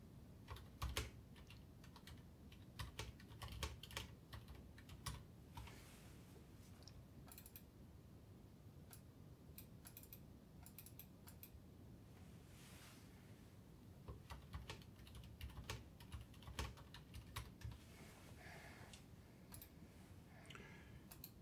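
Rapid clicking keystrokes on a computer keyboard, typing text in irregular bursts with short pauses, close and quiet, with no voices.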